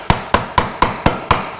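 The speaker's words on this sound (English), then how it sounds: "that's when we'll use our little rubber mallet" Six sharp, evenly spaced taps of a small rubber mallet striking a rivet into a 3rd-generation Chevy/GMC 1500 truck bed, each hit crisp and close with a short decay, steady rhythm about four per second, no voices.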